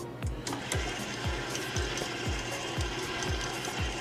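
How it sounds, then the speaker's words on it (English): A stand mixer on low speed beats warm potatoes with butter and cream cheese. It makes a steady mechanical whir with a regular thumping pulse about twice a second, close and moderately quiet, with no talking. "when you turn your stand mixer on, we're gonna turn it on a very low speed"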